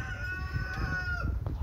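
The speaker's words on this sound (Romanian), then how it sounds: "și cântă cocoșul" A rooster crows nearby at a beekeeping apiary, one clear drawn-out call heard alone over a low steady outdoor background.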